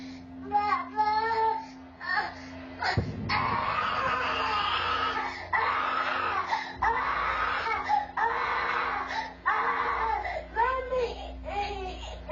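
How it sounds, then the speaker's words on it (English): A child screams and cries at night in long, strained wails with brief breaths between them, close and loud, over a low steady hum. "Why is this kid screaming?"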